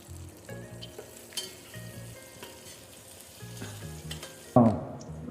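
Mint leaves fry and crackle in a pan for country chicken biryani, a close, busy sizzle with stirring and scraping that ends in a sudden loud burst of hissing.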